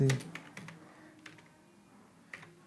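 Soft, irregular keystrokes on a computer keyboard while code is typed, quiet and close, coming in small bursts with pauses and no talk.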